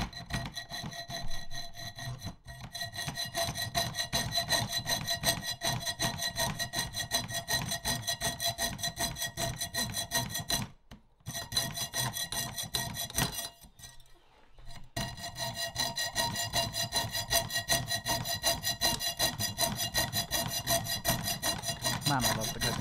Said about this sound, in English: Now it's time to cut it out with the coping saw.